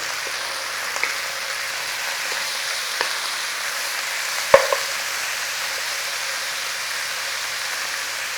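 Shin beef browns in a pan with a steady, soft sizzle and crackle, broken by a few sharp clicks and taps of handling, with no talk.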